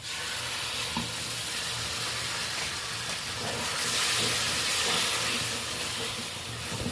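Sizzling and steady stirring as a ground cashew, melon-seed and milk-powder paste goes into pointed gourd frying in a pan; a continuous, fairly loud broadband hiss with soft scraping, no voices.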